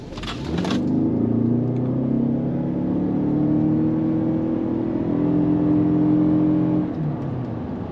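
A 2023 Lexus RX350h hybrid accelerates hard, starting with a brief rustle and then settling into a loud, smooth, rising engine drone and whine that holds steady for several seconds before easing off, heard from inside the car.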